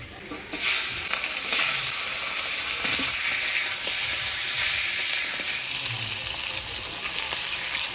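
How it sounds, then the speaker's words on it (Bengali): A fish head fries in hot oil with a loud, dense, steady sizzle that starts suddenly and holds for the rest of the stretch, close up, under faint scattered kitchen clatter. "এবার মাছের মুড়াটা আমি ভেজে নিব।"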